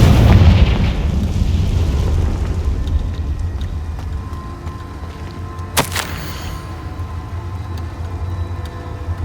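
A Confringo spell explodes in Hogwarts Legacy, a loud boom up front fading into a long low rumble, followed later by a single sharp crack.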